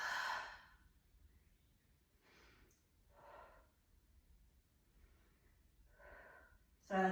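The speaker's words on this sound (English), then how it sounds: "exhale all the way" A person breathes through a slow exercise routine, with a strong, breathy exhale at the start, then softer sighing breaths and sniffs spaced a second or two apart in a quiet room, ending on another loud exhale.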